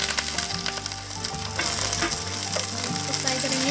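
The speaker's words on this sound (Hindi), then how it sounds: "जब ये हल्का सा फ्राई हो जाएगा इसमें हम ये कैप्सिकम को डाल देंगे" Capsicum frying in a pan for chicken chilli, a continuous crackling sizzle up close with intermittent stirring clatter and scrapes, no voices.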